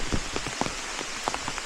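Steady rain patters on leaves and ground in a green forest wildlife park, a continuous soft hiss dotted with close, distinct drips and drops.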